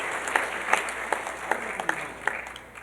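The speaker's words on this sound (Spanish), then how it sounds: "Un fuerte aplauso a la palabra de nuestro Señor y Salvador Jesucristo." Congregation at a Catholic church service claps after a Gospel reading, sparse and uneven with a handful of distinct sharp claps spaced across a few seconds over a quiet room tone.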